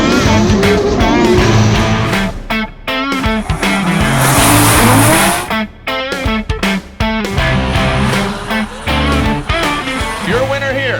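Drift cars running tandem, loud revving engines and screeching tire squeal throughout, with bursts of harsh noise and engine pitch rising and falling; a voice sounds over parts of it.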